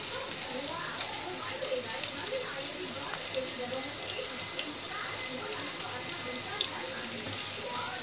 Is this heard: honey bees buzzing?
no